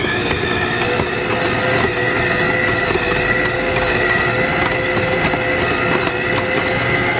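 An Acekool stand mixer runs at full tilt, a loud, steady motor whine with a rattling mechanical drone that holds unbroken throughout.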